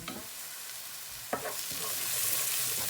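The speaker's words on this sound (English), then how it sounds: "Okay, let's brown the onions." Onions browning in a frying pan for vegetable rice, a steady hissing sizzle with a couple of soft stirring scrapes, close and continuous.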